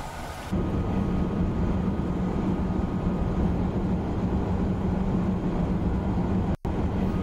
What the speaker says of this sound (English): All the sounds are recorded from trains